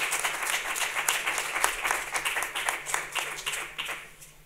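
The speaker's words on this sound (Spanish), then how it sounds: "un aplauso para ellos" Audience clapping after thanks at a children's theatre event in Spain's National Library, a dense, lively round of applause that swells and dips over several seconds with a faint hum beneath.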